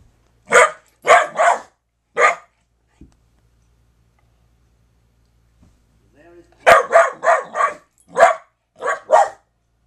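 A dog barks close by in two bursts, three sharp barks, a pause with faint ticking, then a quicker run of about six barks.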